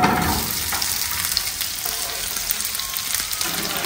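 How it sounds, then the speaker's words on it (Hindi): Oil left over from frying patties sizzles as it heats in a pan, a loud, close, steady hiss and crackle that runs the whole time. "ये पैटीज वाला थोड़ा सा ऑयल था, इसमें डालेंगे जनाब ये थोड़ा सा गर्म करके"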